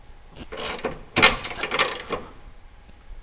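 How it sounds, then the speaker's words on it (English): Mechanical ratcheting with a few sharp clicks, one standing out midway, from a torque wrench being turned close by on a Mazda Miata rear sway bar. "Did you hear the click? There you go, torque wrench."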